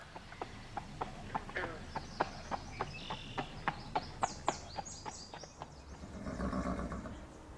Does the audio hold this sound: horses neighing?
yes